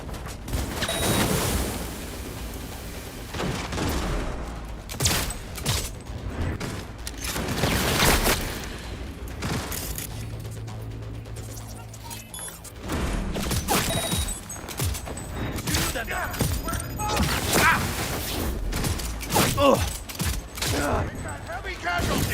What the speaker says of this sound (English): Oh, freaking flashbangs, that's it.